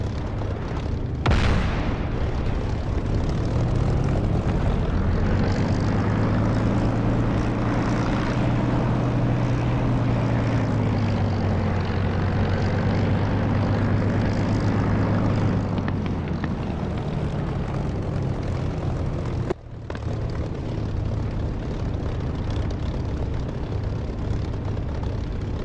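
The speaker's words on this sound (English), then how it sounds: "Right, I'm going to move centre runway and take off." A simulated Spitfire propeller fighter in DCS roars loudly and continuously as it takes off along the centre runway, its engine drone wavering in pitch with one sharp dropout near the end.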